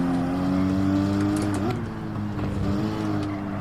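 Porsche Cayman race car in Gran Turismo 7, a steady droning engine note holding a high, even pitch with a brief shift midway, loud and close throughout.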